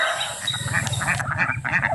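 A flock of ducks on a backyard farm in the Philippines quacks in a rapid, overlapping chorus close by, loud and continuous.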